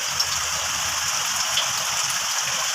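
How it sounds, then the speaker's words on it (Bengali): Heavy rain pouring down beside a kitchen during a windy storm, a loud, steady close hiss of drops drumming on surfaces with no pause and no talking. "প্রচুর পরিমাণে বৃষ্টি হইতেছে"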